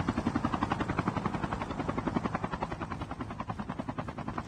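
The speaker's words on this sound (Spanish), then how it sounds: "Un helicóptero a ese lado, Mario" Helicopter rotor chopping in the mobile shooter Call of Duty Mobile, a steady close whirring thump with rapid regular pulses filling the clip, no talk over it.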